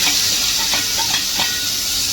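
Paratha roll filling fries in real ghee in a pan, giving a steady close hiss and sizzle with a few soft stirring scrapes, no voices.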